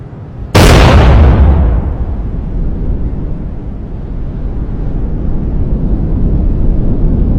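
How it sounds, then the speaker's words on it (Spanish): Nuclear bomb detonation of 16 kilotons heard from 7 miles away: a sudden loud blast strikes, then a long, deep rumbling roar that rolls on steadily with no voices. "Escuchas un fuerte estruendo seguido de un sonido aterrador."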